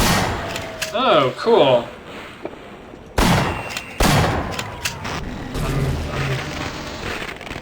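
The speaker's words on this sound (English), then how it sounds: "Oh, there's a turret." Automated turret firing in the Half-Life video game, a few sharp broadband bursts spaced apart between stretches of game noise, with someone talking briefly near the start.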